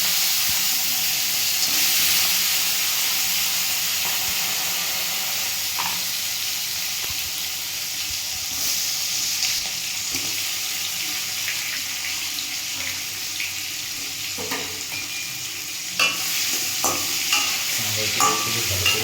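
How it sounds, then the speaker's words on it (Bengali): Small Sundarban sea crabs frying in hot oil with turmeric, salt and chili, a continuous close sizzle with occasional scraping stirs and clinks growing busier toward the end. "তেল গরম হয়ে গেছে, এবারে কাঁকড়াগুলো ভাজার জন্য দিয়ে দেওয়া হচ্ছে।"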